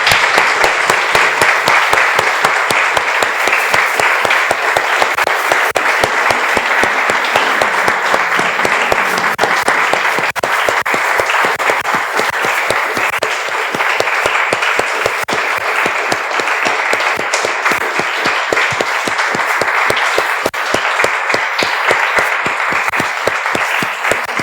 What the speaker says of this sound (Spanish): Damos un aplauso, hermano.